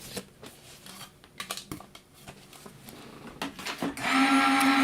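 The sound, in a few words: paper running through a die cutting machine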